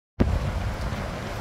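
Strong stormy wind on the beach at Playa de Palma, Mallorca, starting abruptly and roaring steadily as loud buffeting rumble across the microphone.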